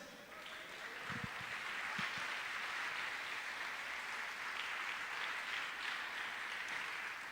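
A church congregation claps steadily for several seconds, a broad sustained wash of applause filling a large room with no voices above it.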